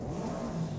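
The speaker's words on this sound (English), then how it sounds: "Oh, this car sounds amazing." Alpine A110 fitted with a Subaru engine revving in the Forza Horizon 5 racing game, a brief, faint, mid-pitched engine drone heard alone.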